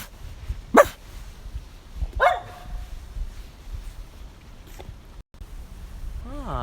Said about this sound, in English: there's a bunch of dogs in here.